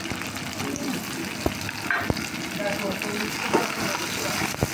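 Chopped onion and green chilli fry in a pan for a chicken dish, a steady close sizzle with occasional stirring clicks and scrapes, some faint background voices mixed in.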